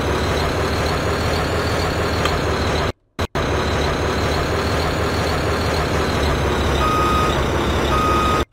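Airport vehicle backing up in Airport Simulator 2015, its reversing alarm sounding steady repeated beeps over a loud constant engine drone, cutting out briefly midway before resuming.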